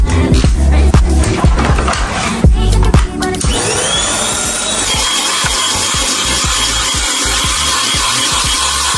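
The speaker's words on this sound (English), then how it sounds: "Okay, y'all, I'm about to vacuum my room." A vacuum cleaner in a dorm room: a few seconds of clattering handling noises, then the motor whines up and settles into a loud, steady roar that runs to the end.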